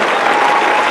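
Loud, dense applause from a crowd, a brief steady burst of clapping with no pauses.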